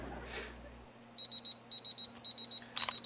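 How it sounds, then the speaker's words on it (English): A computer's CPU overheating alarm beeps in rapid repeating bursts of four high-pitched tones, fairly faint over a low electrical hum. "So that's the hot processor alarm"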